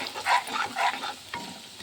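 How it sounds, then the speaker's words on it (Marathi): Misal masala spices and chilli sizzle in a pan while being stirred, with two rising bursts of scraping and frying close by, then a quieter steady sizzle with a soft knock. "थोडंसं 2 मिनटं फ्राय होऊ द्यायचं आहे, कलसून घ्यायचं आहे."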